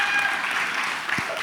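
Applause from an audience in an event hall fills the moment, a steady dense wash of clapping at even loudness throughout, with a faint voice beneath.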